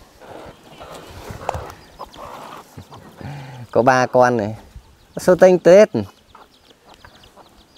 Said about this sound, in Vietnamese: Đây gà con này.